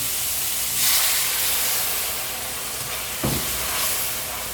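Fish curry broth with tomato starting to boil in a pan on the stove, giving a steady broad steamy hiss and bubbling sizzle throughout, close up, with a brief clunk near the end.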